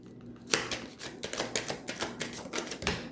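Tarot cards riffled and shuffled by hand, a dense run of crisp papery flutters and taps repeating in quick bursts, close and fairly loud with no talking.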